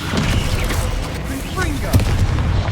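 Spell impacts from Hogwarts Legacy, a Descendo slam in battle, with dense booming thuds and a sharp blast near the two-second mark over continuous combat noise and voices.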